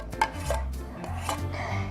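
A metal spoon scraping and clinking against a container while scooping out butter in a home kitchen, with a few light taps and scrapes at close range and no speech.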